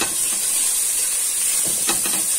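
Sheep tail fat melting in a hot pan, giving a steady loud hiss and sizzle throughout with a few faint stirring scrapes near the end.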